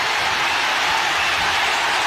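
A dense crowd in Ariake Arena roars continuously after a knockout at a kickboxing fight, a loud wall of cheering and applause with no pauses.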